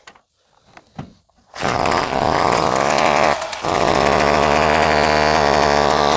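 A chainsaw engine runs with its air filter removed. After a few faint knocks and handling noises it roars to life and holds a loud, steady buzzing idle, with a short dip in revving partway through.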